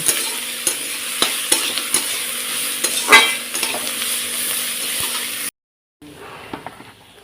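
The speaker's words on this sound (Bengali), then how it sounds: "পেঁয়াজটাকে ততক্ষণ ভাজবো যতক্ষণ না লাল হচ্ছে" Onions fry in a pan until reddened, sizzling steadily up close while a spatula taps and scrapes now and then. The sizzle cuts off abruptly, then returns more quietly.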